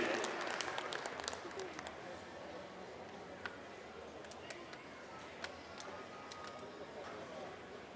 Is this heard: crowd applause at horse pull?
yes